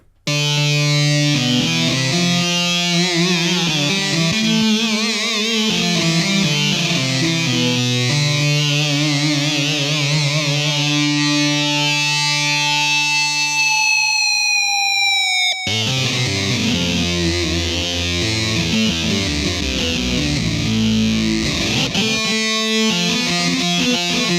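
A loud synthesizer lead with a wobbling, siren-like tone and repeating delay echoes, including a long rising glide, sustained throughout with no talking.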